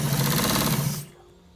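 Sewing machine stitching the top part of a white trouser, a loud steady close run that stops abruptly about a second in.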